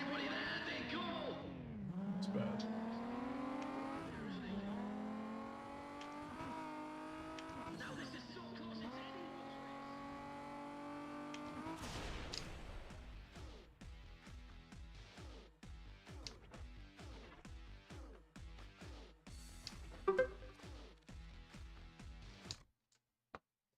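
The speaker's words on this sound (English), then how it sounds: "will you just listen to the raw madness of that engine?" A racing car engine in the video game Need for Speed ProStreet roars and revs up and down continuously, then shifts into rapid ticking and clattering before cutting out near the end.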